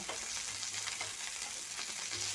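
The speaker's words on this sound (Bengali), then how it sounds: "তো মাছটাকে ভালো করেই ভাজতে হবে" Rohu fish pieces fry in hot oil with a dense, constant sizzle and light crackling throughout, close and unbroken, with no talking.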